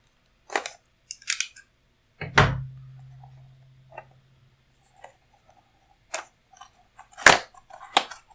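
Packaging of a Uni USB-C 8-in-1 aluminum hub being cut open, heard as scattered close, sharp snips and clicks with one heavier thud that rings briefly, and no talking.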